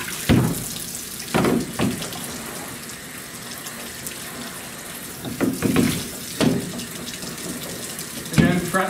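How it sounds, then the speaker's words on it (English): Tap water runs into a darkroom tray being rinsed out, a steady splashing flow with several louder surges and sloshes as the tray is moved and tipped under the stream. "Now I still want to rinse this tray out."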